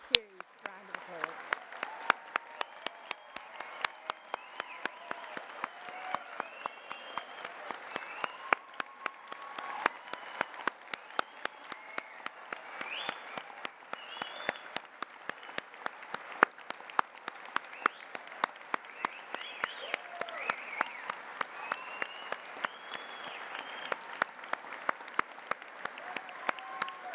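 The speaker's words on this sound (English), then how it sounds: "give them a huge round of applause" A large crowd at a university degree ceremony in Cardiff gives graduates sustained applause, dense clapping that carries on at an even level for almost half a minute, with a few sharp claps standing out.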